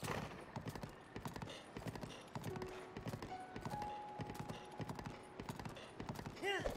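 Galloping horse hooves in Zelda: Breath of the Wild, a steady clip-clop rhythm running throughout at moderate level amid game ambience, with people talking over it.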